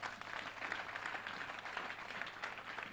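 A church congregation claps together in sustained, even applause, faint and distant, with no voices rising above it.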